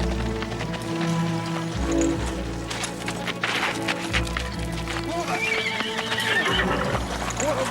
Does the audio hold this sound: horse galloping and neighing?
yes